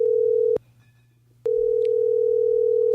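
A telephone dial tone hums steadily while a call is being placed. The tone breaks off briefly near the start, then resumes and holds on clearly and alone.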